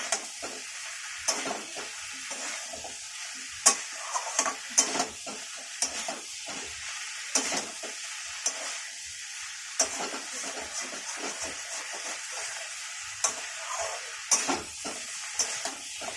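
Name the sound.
Malabar spinach (pui) stalks being stir-fried in a pan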